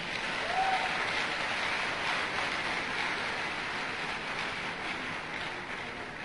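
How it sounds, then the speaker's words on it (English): Audience at a 2015 Oyo State governorship debate applauds candidates, a steady, fairly distant wash of clapping that continues evenly for several seconds, soft and diffuse like rain. "I think we need to give all the candidates a rousing round of applause."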